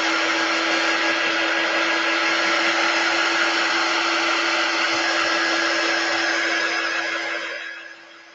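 A hair dryer drying paint on a wooden paint-stick pallet sign runs at a steady, loud whine close by for about seven seconds, then winds down and fades at the end.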